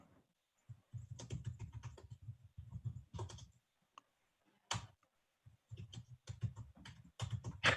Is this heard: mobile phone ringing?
no